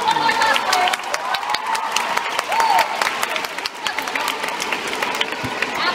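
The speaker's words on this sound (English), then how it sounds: "one more round of applause for every single one of our" A large convention crowd at a Dota 2 Major in Manila claps and cheers for the cosplayers, a loud sustained roar of hands and whoops with brief shouts and a host's voice faintly mixed in.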